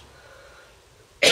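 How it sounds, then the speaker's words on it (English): A single short, loud cough bursts out near the end after a stretch of quiet room tone. "I can't even edit out that cough."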